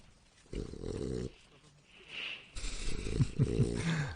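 Low, rumbling snores from a dog close by, coming in two drawn-out breaths with some snorting grunts in the second.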